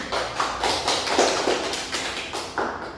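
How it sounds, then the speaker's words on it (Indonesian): Classroom applause for students during a micro-teaching lesson, a steady patter of clapping hands from a small group lasting a few seconds. "Beri aplaus untuk temannya."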